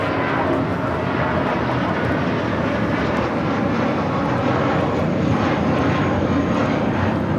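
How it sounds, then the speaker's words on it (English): An Airbus A321 jet airliner takes off at LAX with a steady, broad engine roar that holds at a constant, fairly distant level for several seconds. "Viva Airbus 623 taking off to Monterrey, Mexico on the A321"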